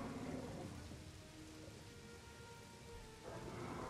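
Steady rain with rolling thunder from the dinosaur park game Jurassic World Evolution, a continuous broadband downpour holding level throughout, with low rumbles swelling at the start and again near the end.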